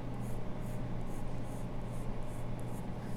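A pencil sketches a rabbit on paper, a close, steady rhythmic scratching of graphite in short repeated strokes over a constant low background hum.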